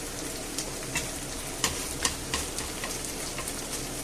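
Chicken paella simmering in a wide pan, giving a steady soft frying crackle with scattered small pops, close and moderately quiet, with no voices.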